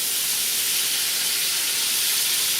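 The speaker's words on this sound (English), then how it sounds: "Add the rest of the butter into the pan." Butter sizzling in a hot skillet after pork and potatoes, a dense, steady hiss heard up close and uninterrupted.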